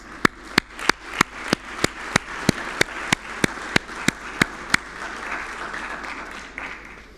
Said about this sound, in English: give a round of applause to your families and your parents